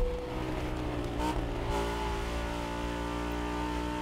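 A Lamborghini Huracán engine in The Crew Motorfest revs steadily and loudly with a sustained, climbing drone and dense harmonics, heard alone without talk.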